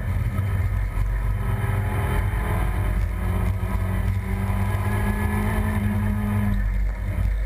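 A Mazda MX-5 engine drones loudly and steadily through a Nordschleife lap, a dense continuous roar with no breaks from start to finish and no voices over it.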